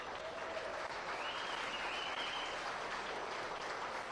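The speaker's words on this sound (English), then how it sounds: "Give our junior showman a nice round of applause." Clapping rises steadily for a junior showman at a hog show, an even, sustained patter from a crowd at moderate distance with no voices over it.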